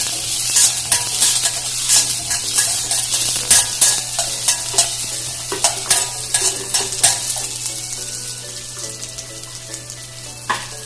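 Shallots sauté in a pan for a crab roast, a low sizzle under repeated scraping strokes of a spoon that come in an uneven rhythm, close by, with a steady hum beneath and no talk.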